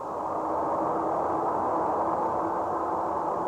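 Steady hiss of noise picked up by a huge radio telescope receiver listening to space, a constant, even static wash with no variation or voices.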